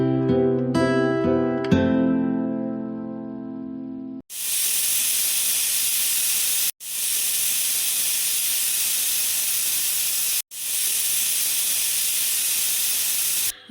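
A pressure cooker of sprouted green gram gravy lets out steam in three long, loud, steady hisses, each broken by a brief pause, after a few seconds of bright tonal music.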